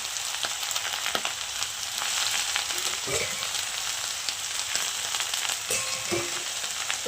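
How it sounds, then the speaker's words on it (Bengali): Pumpkin leaves fry and get stirred in a pan with a constant crackling sizzle, broken by occasional clinks and scrapes of a spatula against the pan. "সব কুমড়ো পাতাগুলো দিয়ে দিয়েছি এবার এইভাবে একটু নাড়াচাড়া করব"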